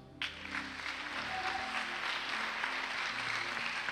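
Congregation in a church worship service applauding and cheering for Jesus, a dense steady wash of clapping and crowd noise that starts abruptly and holds at full level throughout.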